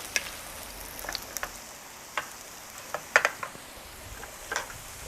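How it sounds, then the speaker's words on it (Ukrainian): Potato pancakes (deruny) fry in oil with a faint, steady sizzle and scattered small pops and crackles, quiet and close, with no one talking. "і смажимо до готовності до золотої скоринки з одної сторони, потім перевертаємо"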